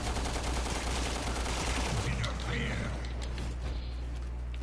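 Gunfire in the survival horror game Resident Evil: Revelations 2 rings out loud and dense, with rapid shots and mechanical clatter filling the first half before thinning into a lower rumble.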